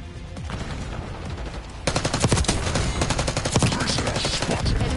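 Automatic gunfire in Call of Duty Black Ops 6 multiplayer on the Babylon map, with sparse shots at first, then rapid sustained bursts of loud, close firing after about two seconds.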